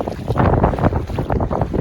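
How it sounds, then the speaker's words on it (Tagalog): Strong wind buffets the microphone in loud, rumbling gusts that rise and fall, with no voices. "Ang lakas pa ng hangin."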